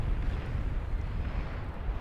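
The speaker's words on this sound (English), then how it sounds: "It's just like a big explosion." A nuclear strike in the strategy game Beyond All Reason goes off as a continuous deep, heavy rumble with a noisy wash on top, holding loud throughout with no voices over it.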